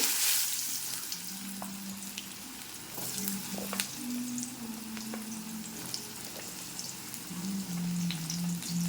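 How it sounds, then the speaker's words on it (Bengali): Panch phoron spices and cut potatoes fry in hot oil, a continuous crackling sizzle with scattered pops and some stirring, close and fairly quiet, with no talking. "তেলের মধ্যে দিয়ে দেবো পাঁচফোড়ন, দিয়ে দেবো কেটে রাখা আলু"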